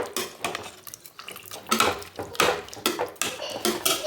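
A spoon stirs yogurt into chicken biryani in a pressure cooker pot, producing close, fairly loud scraping and clanking strokes at a steady, uneven rhythm, with no one talking.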